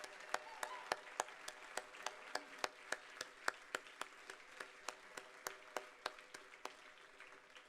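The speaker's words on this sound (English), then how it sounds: "let's give them a round of applause" Audience at a charity gala applauding, a faint, sparse round of distinct claps in a steady rhythm, about two or three per second, heard without any talk.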